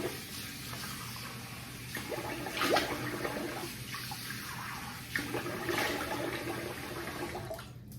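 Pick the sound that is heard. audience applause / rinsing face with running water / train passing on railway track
rinsing face with running water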